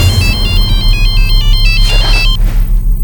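A telephone ringtone plays loudly and close as a repeating electronic melody of stepped beeping tones over a low background hum, cutting off near the end.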